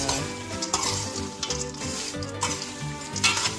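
Adobo peanuts stirred and fried in a pan, a steady loud sizzle with continuous scraping and rattling of the nuts as they are turned, no talking.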